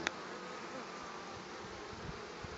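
A steady swarm of honeybees hums at the hive entrance as foragers return laden with yellow pollen loads, a dense continuous buzz close by with a few small bumps and no clear speech.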